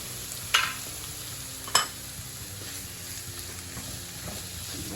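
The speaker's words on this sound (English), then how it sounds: "And then you add the garlic." Garlic sautéing in a pan gives a soft, steady sizzle, with two sharp scraping clatters of a utensil stirring early on, fairly faint and close, with no talking.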